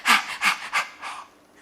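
Someone imitates tired panting, like after hopping and running about: four quick breathy huffs close up, fading on the last one.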